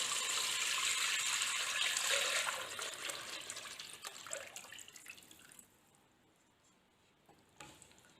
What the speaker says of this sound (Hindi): अभी हम इसके अंदर ये जो हमारा लस्सी और बेसन का बैटर था उसको डाल के पकाएंगे।